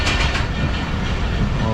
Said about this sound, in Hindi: और इसीलिए ट्रेन भी हमारी जो है वो बिल्कुल स्लो चल रही है।